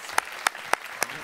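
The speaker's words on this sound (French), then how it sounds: "Je pense qu'on peut applaudir à nouveau nos deux candidats" A few distinct hand claps ring out at a French national eloquence contest in Aix-en-Provence, four sharp evenly spaced claps over a quiet room as the audience applauds two candidates.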